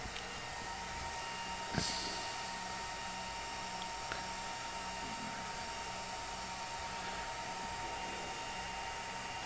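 Steady, even server fan hum filling the room, broadband and unchanging, with a faint click or two and no voices.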